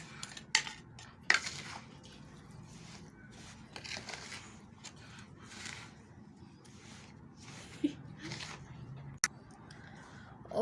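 A spoon stirs and scrapes a pan as dry fruits are mixed into a sweet dish, giving irregular metallic clinks and soft scraping with a few sharper knocks.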